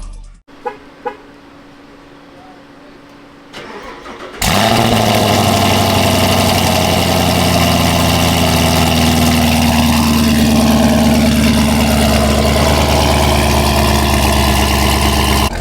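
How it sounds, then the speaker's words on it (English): A 2019 Chevrolet Camaro SS with a muffler delete and its exhaust valves open starts after a few seconds of near silence, then idles loud and close with a deep steady rumble and a slight rise in revs partway through. "this is how the car sounds with the valves open"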